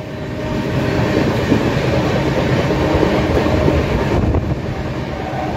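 Passing a local train on the Howrah to Bolpur line, the Shantiniketan Express makes a loud, continuous, close rumble of rolling wheels with rhythmic clatter and faint squeal, with no voices.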